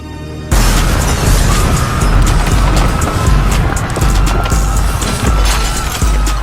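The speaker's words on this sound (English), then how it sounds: "we're going to attack the medieval castle with 100 fireworks that will go off all at once" A hundred fireworks go off at once against a medieval castle in a video game: a loud, dense barrage of booms, bangs and crackles that roars on without a break after a brief quieter opening.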